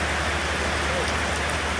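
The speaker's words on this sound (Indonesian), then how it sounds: "Pagi-pagi udah hujan aja ya" Steady rain falls in the early morning, a dense, even hiss of drops on surfaces that runs unbroken and fairly loud throughout, with no voices over it.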